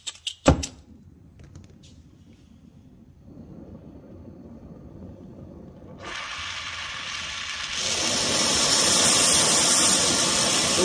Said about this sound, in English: I'm going to light this torch and see if I can't do this without a glove on one hand.